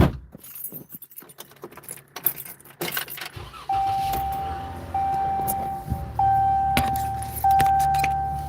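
Keys jangle in irregular bursts early on, then a car settles into a steady hum punctuated by repeated tonal chimes as it starts up; faint background sounds, no clear speech.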